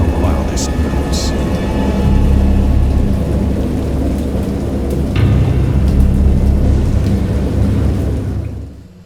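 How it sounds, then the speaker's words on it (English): Stormy ambience in the Lovecraft horror game Dagon, a heavy continuous rumble of thunder and rain that stays loud for several seconds before cutting away. "I heard pearls of thunder and other tones which nature utters only in her wildest moods"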